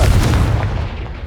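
A Confringo fire spell explodes in the video game Hogwarts Legacy, a loud, booming blast with a heavy low rumble that decays across a second or so, with no voices over it.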